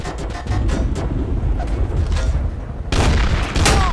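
Gunfire in Garry's Mod Trouble in Terrorist Town, a loud close volley of rapid shots with booming impacts, dipping briefly before a heavier final burst.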